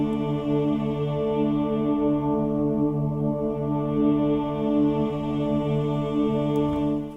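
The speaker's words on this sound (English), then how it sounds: "What a low-pass filter does is it filters out some of the higher frequencies, letting the lower frequencies pass through." A steady, sustained synthesizer tone from Omnisphere 2 runs through a low-pass filter, a dark, muffled drone with its upper brightness cut away, holding evenly at moderate loudness before fading out at the end.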